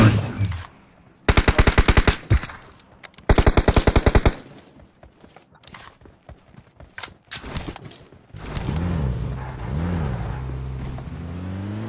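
Video-game gunfire crackles in two rapid automatic bursts, each about a second long, followed by scattered single shots and then a revving vehicle engine.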